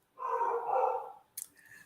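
A dog gives one drawn-out bark at moderate distance, followed by a short, quieter yip, with silence around them.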